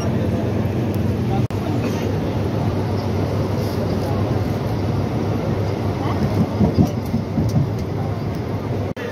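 Steady rain with low rumbling thunder near a local train, a broad continuous wash of noise with a few brief cracks, under faint voices.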